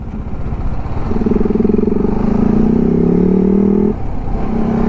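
A motorcycle engine idles loudly up close, then revs into a sustained steady drone for a few seconds before dropping back to a rough, throbbing idle.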